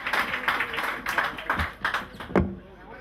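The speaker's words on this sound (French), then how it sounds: "Raphaël Ducasse clôt la présentation sous les applaudissements" Audience applause closing a Green IT corporate presentation, a dense spread of clapping with several sharper claps and bursts, fairly close and steady for a few seconds.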